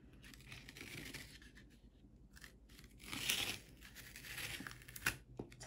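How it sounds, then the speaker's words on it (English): Masking tape peels slowly off the paper edges of a finished watercolor painting, a soft, close tearing and crinkling that swells in two longer pulls with small crackles between them, with no voice. "All I'm gonna do is peel this tape off."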